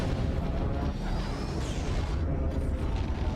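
Light ion cannons fire in X4: Star Wars Interworlds, a continuous loud rumbling, crackling barrage with faint whistling sweeps over it and no speech.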